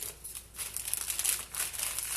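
Sheet of parchment baking paper crinkling close by while cracker dough is prepared, a steady run of crisp rustles and crackles with brief pauses.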